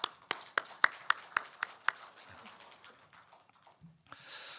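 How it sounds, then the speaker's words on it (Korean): A church congregation claps for the choir at a Sunday worship service. Roughly a dozen crisp, separate claps come in a quick rhythm, quiet and thinning out, before a soft murmur. "우리 목자 성가대 더 부흥하도록 우리 다시 한번 격려 박수하십시다."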